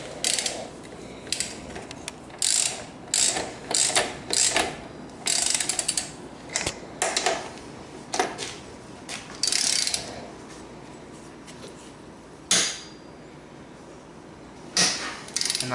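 A ratchet wrench with a 14 mm socket tightening a bolt on Honda Rancher ATV rear brakes, repeated close bursts of rapid clicking in uneven strokes with pauses between them.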